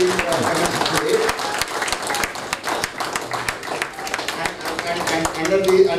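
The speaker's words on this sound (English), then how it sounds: "give a standing applause for the women forum being commenced today" Audience at a World Hindu Economic Forum regional meet in Hyderabad giving a standing applause, a dense, steady wash of clapping hands that holds loud throughout, with a little crowd murmur mixed in.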